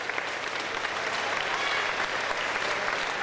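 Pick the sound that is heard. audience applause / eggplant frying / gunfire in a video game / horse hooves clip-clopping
audience applause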